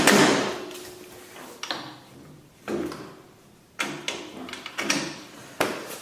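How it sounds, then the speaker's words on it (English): Hammer blows pounding a bolt through a go-kart engine bracket, about five sharp metallic strikes spaced roughly a second apart, each ringing briefly, close by with no talking. "finish pounding the bolt through"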